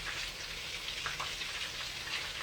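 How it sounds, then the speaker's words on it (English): Meatballs sizzling in a pan, a steady crackling fry with small pops, close and fairly quiet, with no voices. "I love the sound of good sizzle."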